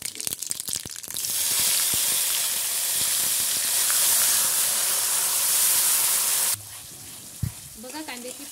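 Onion paste frying in hot oil with mustard seeds and cumin for a malai kofta gravy, a steady loud sizzle and hiss that cuts off abruptly near the end, leaving quieter stirring sounds.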